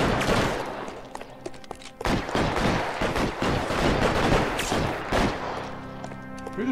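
Gunfire rattles through a shootout in the video game L.A. Noire, with dense bursts and repeated loud cracks that keep up for several seconds, dropping briefly near the middle before starting again.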